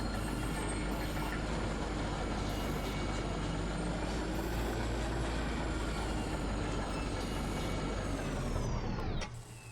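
Mine tram rolls along rails in the video game Kentucky Route Zero, a steady loud rumbling clatter for about nine seconds that ends abruptly with a brief descending screech as it halts.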